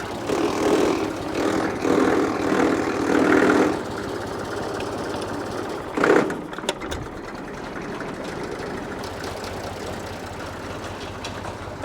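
Vintage tractor engine running in gear, a steady loud rumble for the first few seconds that then drops to a quieter chug, with a clank partway through and no talking.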